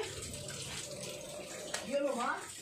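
A small amount of water pours and splashes briefly and faintly, with a voice murmuring over it near the end.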